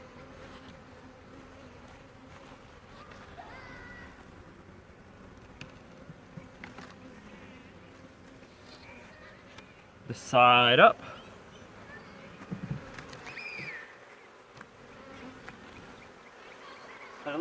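Honey bees buzzing steadily around a backyard beehive being fitted with an added box, a low continuous drone under occasional nearby talk and a brief louder handling noise.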